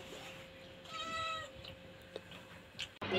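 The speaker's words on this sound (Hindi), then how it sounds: "बिल्ली भी साथ आई हुई है" A village cat meows near a kitchen area, a drawn-out faint cry followed by a couple of softer short calls, alone without speech.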